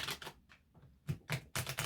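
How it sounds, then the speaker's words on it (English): Tarot cards being shuffled in quick bursts, several crisp riffling passes separated by short pauses, close and fairly quiet with no talking. "2 more shuffles"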